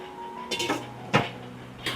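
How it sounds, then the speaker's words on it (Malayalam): A metal lid set onto a pan of cooking tomatoes gives a few light clanks and taps, close and fairly quiet. "മൂടി വെച്ച് കൊടുക്കാം"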